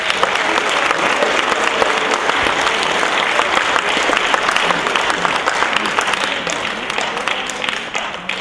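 Large concert audience at a 15th-anniversary gala applauding loudly and densely for a school choir, sustained clapping that eases slightly near the end.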